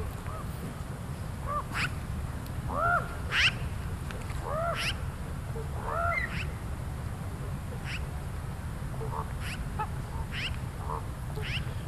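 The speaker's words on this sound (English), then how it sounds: "The sounds you hear are ravens that follow the wolves around." Ravens following wolves in Yellowstone, giving repeated hoarse, rising croaks and calls in irregular bursts, moderately near, over a steady low outdoor rumble of wind or background noise.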